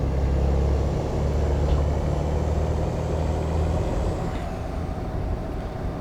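Heavy truck engine in American Truck Simulator heard through an open cab window, a steady low diesel rumble droning at a constant level with road noise and no talk.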